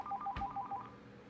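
A telephone plays a quick run of dialing tones for an outgoing call, about a dozen short beeps in steady rhythm, close and fairly quiet, with a brief thump partway through.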